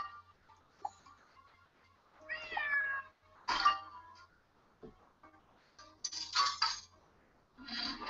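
A cat meowing in a video game, several drawn-out mewing calls spread over a few seconds, with light clinking and coin-like chimes between them.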